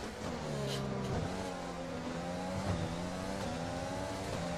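An F1 car engine in the video game F1 2020 whines loudly and continuously, its pitch falling, then rising with each gear change, steady and close throughout.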